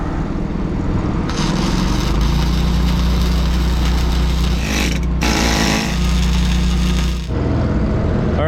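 A loud, steady high-speed welding run buzzes on an excavator bucket shank during repair, with two long continuous passes broken by a short pause and an abrupt stop near the end.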